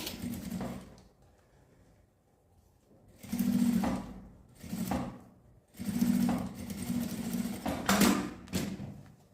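A sewing machine stitches bias binding on a small handmade souvenir, running in several quick bursts of rapid mechanical whirring separated by short pauses, close and clear with no talking.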